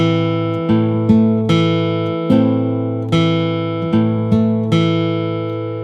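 Steel-string guitar thumbpicking pattern played slowly, with an alternating thumb bass and plucked treble notes in a steady, even rhythm; each pluck rings out clearly and alone, close and moderately loud.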